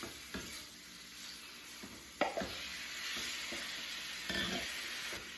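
One and a half pounds of beef strips browning in a quarter cup of melted butter for beef stroganoff, a soft continuous sizzle punctuated by several clattering stirs of the meat, quiet and without talk.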